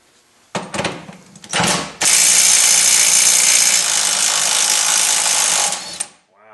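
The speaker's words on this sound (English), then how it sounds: "I have my doubts about this little electric impact getting it" A small electric impact wrench works on the rear wheel hub nut of a 2000–2005 Neon: two short bursts, then a loud continuous hammering rattle for about four seconds, close up.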